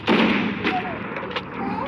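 A sniper rifle fires in the video game Free Fire, one sharp loud blast at the start that decays into a ringing tail, followed by fainter game sounds.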